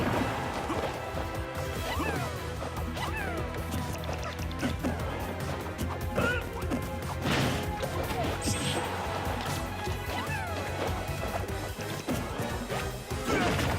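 Constant clashing hits and smash-attack impacts during a Super Smash Bros Grand Finals match between Fox and Mewtwo, dense rapid game effects over busy crowd and commentary noise.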